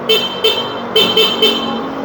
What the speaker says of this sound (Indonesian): Ini ada tombol klakson.